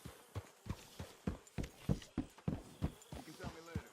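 Horse hooves clip-clop in Red Dead Redemption 2, a steady walking rhythm of roughly a dozen distinct close hoof strikes, with faint voices in the background.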